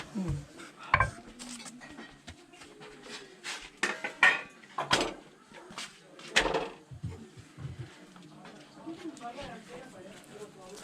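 Pans, griddles and cutlery clatter and clink in a kitchen where parathas are cooked on two griddles at once, irregular metallic knocks and scrapes mixed with people talking nearby.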